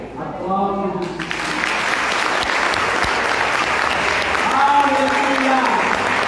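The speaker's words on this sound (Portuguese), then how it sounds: "Aplausos." A church congregation applauds during a Portuguese-language worship service, loud sustained clapping that swells after a brief spoken line and continues under occasional voices.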